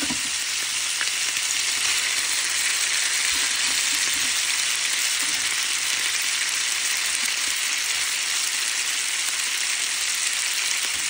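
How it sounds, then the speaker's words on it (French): Pasta sizzles and fries in a pan with bacon, a steady dense crackling hiss that continues evenly throughout, close and loud with no talking. "Et puis ensuite, j'ajoute les pâtes."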